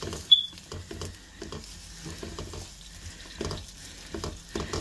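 Chopped onions, two of them, sautéing in a pan for a chicken drumstick and green bean dish, with a soft sizzle broken by stirring scrapes and light pattering, close and fairly quiet, with no one talking.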